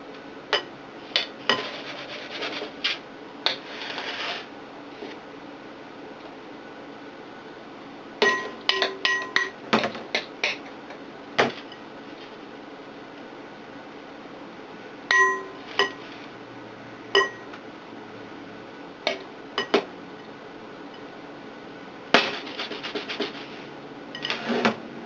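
Turkey deli meat scooped into a container, which is then shaken to level it. Sharp clinks and knocking rattles come in scattered clusters against near silence, close and fairly loud.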